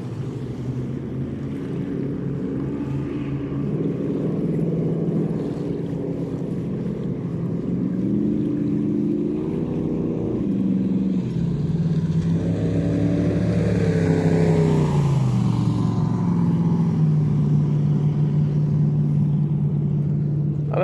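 Several jet boats on a river in New Zealand's Mackenzie Country drone past, their engines rising and falling in pitch as they go by, loud and steady through the whole stretch with no speech.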